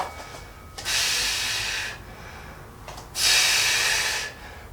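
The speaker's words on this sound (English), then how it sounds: "Now breathing plays a big part. So listen to the breathing." Two loud, forceful breaths, each hissing for about a second, taken during shoulder taps in a beginner home workout, close to the mic with a quiet pause between them.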